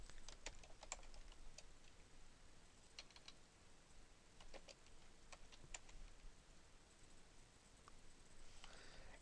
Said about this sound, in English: we are going to then just kind of type in our subject matter here